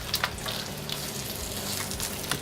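Bacon frying in a pan during a paleo pork tenderloin recipe, a steady soft sizzle and crackle with occasional sharper pops, heard close with no talking.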